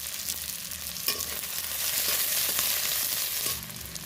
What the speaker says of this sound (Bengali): দিয়ে দিলাম কেটে রাখা পেঁয়াজ পেঁয়াজটা দিয়ে একটু নেড়ে চেড়ে